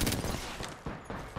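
Rapid gunfire from a video game shooter, several sharp shots cracking in close succession over about a second and a half, loud and up close with no talking.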